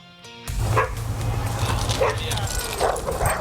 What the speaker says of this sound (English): There's another place to take your dog out to run and play.